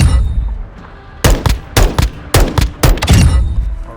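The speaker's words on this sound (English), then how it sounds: "we're going to start by shooting upper thorax on semi-auto" Semi-auto assault rifle shots in Modern Warfare 2, fired from 20-inch barrel rifles such as an M4 or M16. About eight sharp, loud single reports come in an uneven rhythm after a quiet first second.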